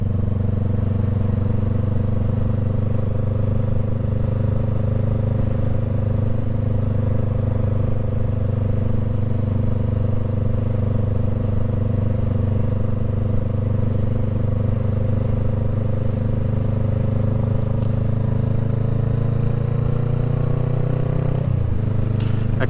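A Honda Rebel 500 motorcycle with a Shorty GP exhaust on an evening ride: a loud, steady, droning engine note that holds for a long stretch, dipping in pitch briefly near the end.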